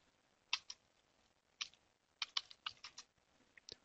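A MySQL login command typed on a computer keyboard during a Group-Office install on Ubuntu: short clusters of crisp key clicks with brief pauses between them, quiet and close, no voices.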